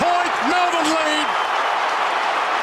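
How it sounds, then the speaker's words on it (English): Dense, roaring football crowd at the MCG during an Essendon v Melbourne match, a loud continuous wash of cheering with a commentator talking over it. "Listen to the crowd. It's off the scale, this."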